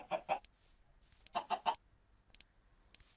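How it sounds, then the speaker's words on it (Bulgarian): Chickens in the video game Minecraft clucking in two short bursts of repeated clucks, fairly close and clear, with a few fainter chirps between and no talk. "Айде пилета."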